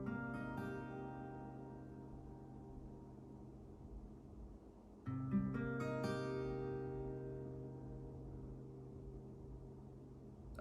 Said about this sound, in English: That 2nd chord is an A-7